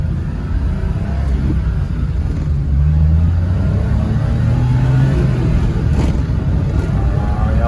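A right-hand-drive Japanese kei van with an F6A engine, model DE51V, drives along with a steady close engine drone and road noise, rising slightly in pitch as it accelerates, with no talk.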